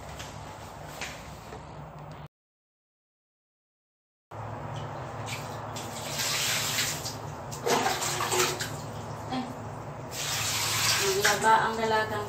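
Hand-washing laundry in a bucket of water gives steady splashing and sloshing with rubbing surges, briefly cut to silence partway, then building louder toward the end.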